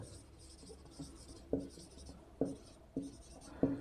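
Pen or chalk writing out an English example sentence during a Hindi-language grammar lesson on direct and indirect narration, heard as soft scratchy strokes with a few sharper taps, close and moderately quiet.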